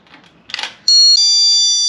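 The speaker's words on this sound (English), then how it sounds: "It means that when someone open the first door, it is going to alarm." An electronic door alarm switched to chime mode sounds as a door is opened at home: a sharp, loud sustained multi-tone electronic beep following brief rustling, holding steadily for about a second.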